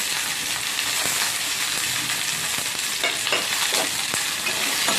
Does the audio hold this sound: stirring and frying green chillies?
yes